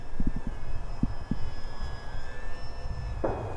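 An 850 mm Arrows P-51 RC model airplane on its maiden flight circles on a breezy day, giving a faint, steady high motor whine under wind rumble and a few scattered knocks.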